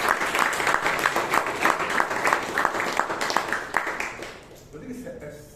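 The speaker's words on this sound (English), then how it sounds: "A big round of applause to the table topic." Applause from the audience at a Bangalore Toastmasters meeting, a dense steady clapping that fills most of the clip before tapering off near the end, with some speech-like sound under it.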